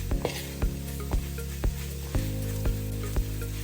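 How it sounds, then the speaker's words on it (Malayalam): Chicken curry masala with curry leaves sizzles in a pan while a spoon scrapes through it in a steady rhythm, about two strokes a second, close and clear with no talk. "ഇത് നമുക്ക് നന്നായിട്ടൊന്ന് ഇളക്കാം. ഇളക്കി ഒന്ന് യോജിച്ച് വരട്ടെ."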